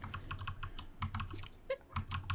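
Rapid typing on a computer keyboard clatters close up, a dense run of sharp key clicks with short pauses, alone with no voices.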